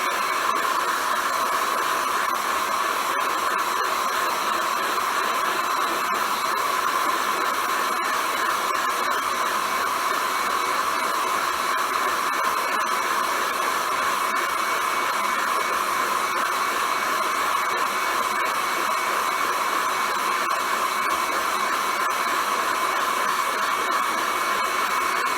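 A heat gun heats a Honda Zoomer swingarm part during reassembly, giving a steady, loud, continuous blowing roar that holds unchanged for the whole stretch with no talk.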